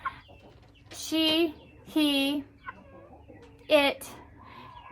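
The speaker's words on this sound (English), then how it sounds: "this is a chicken" A young chicken on a farm gives three loud, close, tonal clucking calls at roughly one-second intervals, with faint softer chirps in between.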